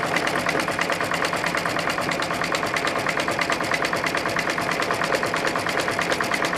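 An embroidery machine stitches a tack-down outline on fabric in a quilt block, a fast steady mechanical chatter of rapid needle strokes, close and continuous throughout without talk.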